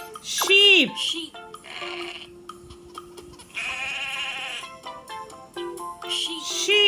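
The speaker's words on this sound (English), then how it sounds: "Sheep. Sheep." Sheep bleat in a preschool English farm-animals lesson, several wavering, nasal calls in separate bursts, loud and close, with pauses and other tones between them.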